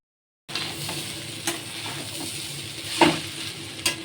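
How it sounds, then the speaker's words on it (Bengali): Rice frying in a pan for pulao, a continuous close sizzle that starts abruptly after a brief silence, with occasional stirring knocks and scrapes. "চালটা যখন একটু ভাজা ভাজা হয়ে যাবে"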